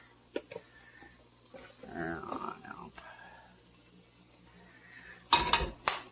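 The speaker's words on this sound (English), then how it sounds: "Mix that all together and let that cook for a few minutes" Spices being stirred into a black bean burrito mixture in a skillet: a few light scrapes, then a muffled shuffle, and a final pair of loud, close clattering scrapes against the pan, with no one talking.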